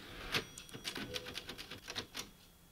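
A typewriter save sound in Resident Evil Village, a quick run of sharp, clattering key strikes ending in a short ding of the carriage bell, fairly close and clear.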